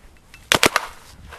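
A quick burst of three sharp, close pops from a paintball gun firing during a recreational speedball game, over quiet background.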